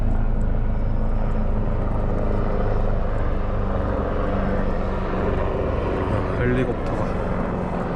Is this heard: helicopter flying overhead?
yes